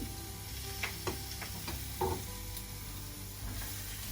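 Tomatoes and smoked bacon fry in sausage fat in a pan, giving a steady close sizzle with a few soft ticks and taps of a utensil scattered throughout.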